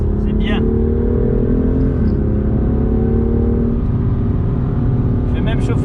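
A BMW M2 CS engine pulling hard on a race track, a loud, steady drone whose pitch rises and then holds as the car accelerates, heard from inside the car with brief talk at the start and end.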